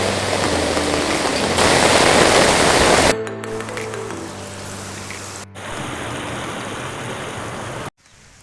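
Steady rushing water roars close by as a lake overflows after the first rain, loud and continuous with no voices, broken by a couple of brief dropouts.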